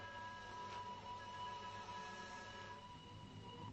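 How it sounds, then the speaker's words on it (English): A train rumbles faintly in the distance in a 1941 film, with a steady, thin, high whistle-like tone over the low noise. "I thought I heard a train whistle. It's coming. It's coming."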